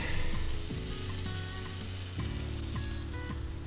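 Potato pieces sizzle and fry in a pan in an Italian kitchen, a steady close crackling hiss with faint stirring clatter, no voices.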